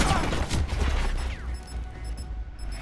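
Explosions in Call of Duty: Black Ops 4 burst with booms and crackling debris near the start, then fade into a rumbling, scattered aftermath.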